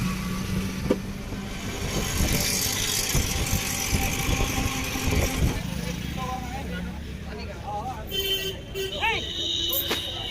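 Busy street traffic outside Kashi Vishwanath temple, with cars and motorcycles rumbling past continuously and several short horn toots near the end, while someone talks over the noise.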